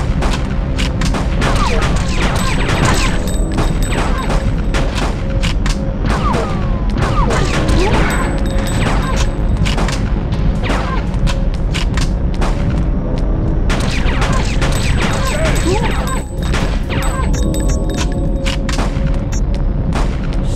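Dense, loud gunfire and explosions from the video game Fear Effect, with rapid overlapping shots and booms filling the whole stretch with almost no pause.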